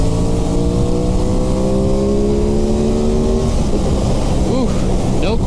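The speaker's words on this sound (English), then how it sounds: "We're doing 85 and I'm in fourth gear and I have revs to go." A 2021 Aprilia Tuono 660 motorcycle accelerates at highway speed in fourth gear, its engine note climbing steadily in rising harmonic sweeps against loud continuous wind roar, with a brief warble near the end.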